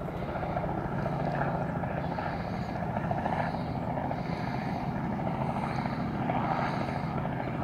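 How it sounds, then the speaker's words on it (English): A helicopter flies over a town on an Independence Day weekend, heard as a steady, broad rotor drone with a faint pulsing beat that carries on for the whole stretch at moderate distance. "Why is there a helicopter?"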